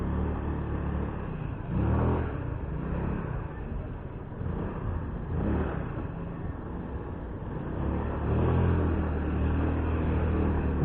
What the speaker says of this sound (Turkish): Bu cip benim yanıma geldi yine.